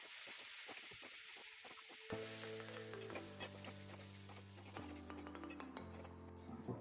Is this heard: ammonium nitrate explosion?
no